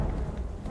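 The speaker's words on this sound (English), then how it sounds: "It's raining heavily. In game, of course." Heavy rain in the police-management video game This Is The Police, a steady dense hiss of downpour with a low rumbling bed, continuous and even throughout a very short stretch.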